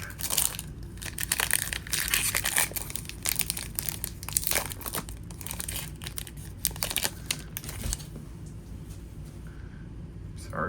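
A foil trading card pack is torn open and crumpled close by, giving a steady run of crisp, crinkly rustles and crackles with a few sharper bumps against a table.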